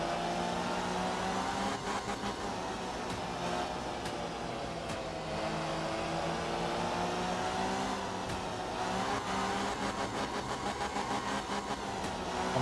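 Rally car engine in Art of Rally revving continuously, a steady loud mid-pitched drone rising and falling with throttle through a stage, with no talking.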